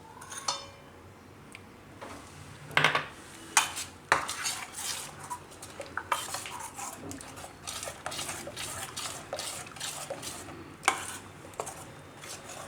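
A spoon stirs water chestnut flour dhokla batter in a metal bowl, with repeated clinks and scrapes in an irregular rhythm, close and fairly loud, with no talking.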